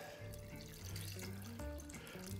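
Water pours from a tap into a cooking pot of potatoes, a steady faint splashing stream beneath tonal background music, with no speech.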